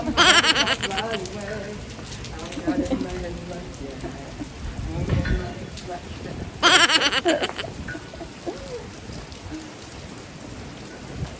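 Heavy rain pours down steadily with a dense hiss, and bursts of louder drumming break in; voices talk intermittently underneath.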